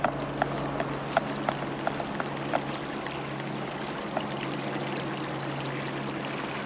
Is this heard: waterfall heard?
yes